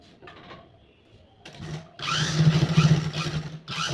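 A sewing machine runs a short marking stitch on a blouse with a near, loud mechanical whir that starts after a few quieter seconds of handling and rustling. The run continues steadily with a rapid stitching pulse.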